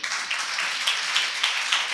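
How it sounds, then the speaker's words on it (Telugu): A church congregation claps in a steady, rhythmic beat during a worship service, loud and continuous, with no voice heard over it. "ఎందుకు కొడతారు చప్పట్లు?"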